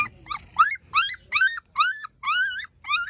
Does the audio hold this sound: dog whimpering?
yes